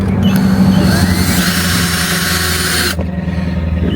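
A power drill drives self-tapping screws into the mount of an RV backup camera, a loud steady whine with a rising squeal that cuts off abruptly near the end.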